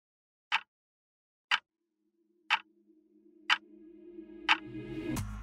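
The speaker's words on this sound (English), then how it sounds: "The ticking bomb." Steady clock-like ticking of a bomb, five sharp evenly spaced ticks about a second apart, with a low droning tone swelling beneath and building into a loud rumble at the end.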